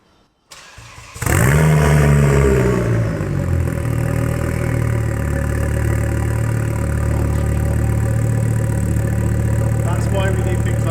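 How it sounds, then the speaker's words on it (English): A Ford Focus ST engine cranks and catches, then settles into a loud, raw, uneven idle, the five-cylinder car running open without exhaust, steady and close. "we should turn this bad boy on, as currently it's exhaustless"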